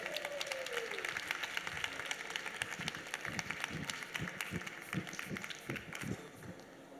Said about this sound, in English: So everyone give a round of applause for Ruti.